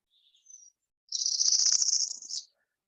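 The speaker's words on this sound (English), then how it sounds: "it's an ascending rapid chipping call" Northern Parula song played back: a brief faint high note, then a loud, rapid ascending run of buzzy chips lasting over a second, alone against silence.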